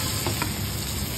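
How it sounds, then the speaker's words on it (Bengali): Lentil paste fries in oil with asafoetida in a wok, giving a brief, loud, close sizzle with a faint stir partway through. "ডালের পেস্টটাকে ভালো করে ভেজে নেবেন"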